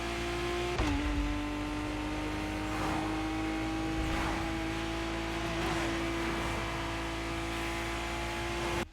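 A car engine with its stock exhaust in The Crew Motorfest racing game, a steady, close droning engine note holding a constant pitch after a brief shift near the start, with no talk over it.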